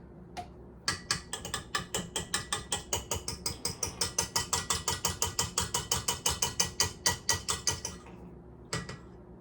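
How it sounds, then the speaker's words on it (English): A stand mixer's head is unlocked with a long, fast train of sharp mechanical clicks, like a ratchet or gears, that ends in a couple of isolated clicks. The sound is close, with no talk. "we're gonna unlock our mixer"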